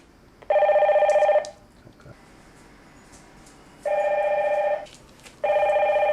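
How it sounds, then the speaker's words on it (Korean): A home telephone rings in three electronic bursts separated by pauses, clear and close, with faint household background sounds between rings. "전화 벨소리에 반응하는 체리는 청각 도우미견입니다."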